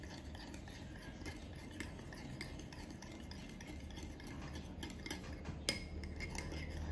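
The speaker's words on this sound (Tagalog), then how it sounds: "Tapos hahaluin natin hanggang sa ano natin yung sauce." A spoon scrapes and swirls through a sauce as fresh milk is mixed in, giving a soft, steady stirring with light clinks against the pan and no talking.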